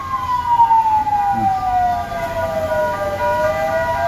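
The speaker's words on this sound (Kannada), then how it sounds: "ಇದ ನೋಕೆ ಆಂಬುಲೆನ್ಸ್ ಹೋಗಿದೆ" An ambulance siren wails near a crash site where a KSRTC bus hit a bus stop, one loud sweeping tone gliding slowly downward over passing traffic rumble.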